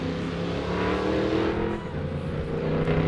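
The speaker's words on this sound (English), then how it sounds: "So that's Richard Fenton, the 4852, taking off" An off-road race car launches from the start line during qualifying at a 4 Wheel Parts Nitto national championship, its engine roaring loud and steady throughout with no voices over it.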